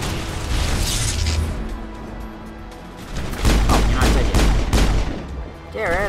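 Gunfire crackles in the Mass Effect assault on Saren, with loud bursts and heavy booms layered over a constant din of battle. A voice talks briefly near the end.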